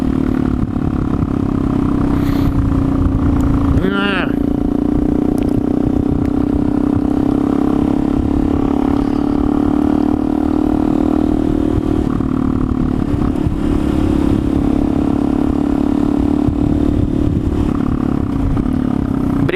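A motorcycle engine roars steadily inside a tunnel, its loud continuous drone thick with echo and clattering road noise, with one brief rising whine partway through.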